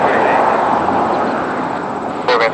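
A Caribbean Airlines jet takes off from runway 23 at Toronto Pearson, its engines roaring loud and steady throughout, close to the runway, with a brief extra burst near the end.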